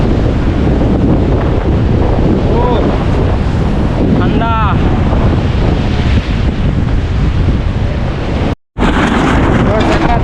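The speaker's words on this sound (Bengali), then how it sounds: "চারপাশে প্রচুর বাতাস আর ঢেউ অনেক বড় বড় ঢেউ" Strong wind and big waves pound Kolatoli beach at Cox's Bazar on the eve of a cyclone: a loud, unbroken roar of gusts and surf, with a brief voice and a short dropout near the end.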